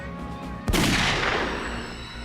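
A single sharp shot from a .22 caliber gun cracks out abruptly, then fades in a long reverberant tail, with no talking around it.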